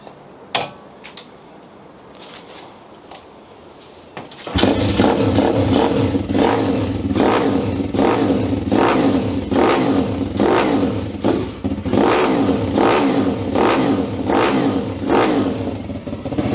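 After a quiet start with a few clicks, a 140cc Thumpstar RoadRipper motorbike engine with non-electric start starts and revs loudly and repeatedly, rising and falling in steady cycles.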